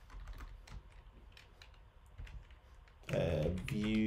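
Quiet clicking of computer keyboard keys in a run of typing strokes, then a louder tonal sound at the end.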